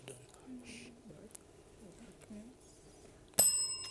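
A quiz-match bell marks the end of the final challenge in a televised high school quiz. One sharp, bright ring cuts in near the end and fades, after soft murmuring in a quiet hall.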